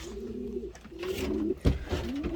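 Pigeons in a breeding loft give several low, rolling coos in close succession, near and clear, with a brief bump of handling noise partway through.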